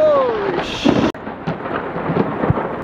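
A close thunderclap cracks and rumbles during an Arizona thunderstorm, loud and sudden, with a sharp burst and rolling rumble under steady rain and no talk.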